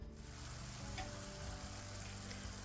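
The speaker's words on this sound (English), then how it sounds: "Now I've got this hamburger meat sauteing." Hamburger meat browns in a hot pan, giving off a steady, close frying sizzle that stays even and unbroken throughout, with only faint stirring underneath.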